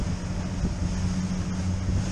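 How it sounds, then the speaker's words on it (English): Strong, gusting wind buffets the microphone at coastal jetties, a steady loud low roar with rumbling bursts throughout and no voices. "I won't be talking during it though, because the wind is pretty extreme."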